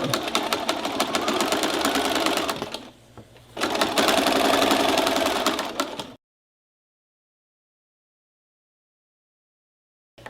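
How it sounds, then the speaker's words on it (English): A sewing machine stitches a pot holder in two close, steady bursts of rapid mechanical whirring separated by a brief pause, then stops, leaving silence. "Pull it out a little bit, fold it up, back down, and continue sewing"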